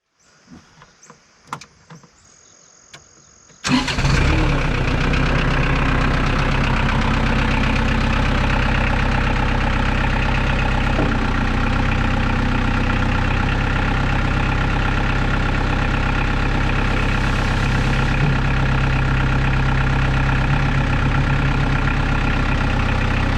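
A tractor engine turns over after a few faint clicks and catches, then idles loudly and steadily for about twenty seconds, a deep continuous rumble with no talking over it.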